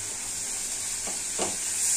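Shrimp with garlic paste fries in a pan with a bright, steady hiss, and two short bursts of stirring or spattering rise near the middle.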